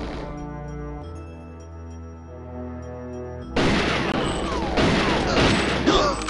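Shotgun fire in the video game GoldenEye 007, arriving after several seconds of droning game music as a loud, harsh burst of blasts and clatter that fills the rest of the moment.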